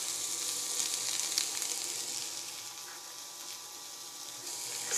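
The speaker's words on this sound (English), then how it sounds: "Now while our leeks are sautéing" Leeks sauté in oil in a pan with a steady, close sizzle and crackle that holds at an even loudness throughout, with no talking.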